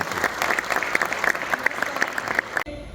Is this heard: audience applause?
yes